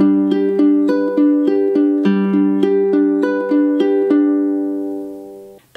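Ukulele fingerpicking pattern at song tempo, plucked notes in an even rolling rhythm, close and clear, closing on a sustained chord that fades out.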